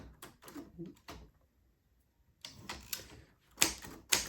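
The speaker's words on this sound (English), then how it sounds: "all of these other keys will advance the carriage" Triumph Norm 6 typewriter keys striking in uneven bursts, with a brief quiet gap in the middle and two sharp, loud clacks toward the end, close and alone.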